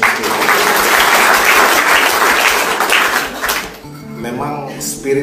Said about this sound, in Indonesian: Sekali lagi kita beri tepuk tangan bagi Yesus